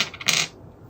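Dice clatter briefly in a savings dice game, a single quick bright rattle that stops within half a second, close and alone with no voices.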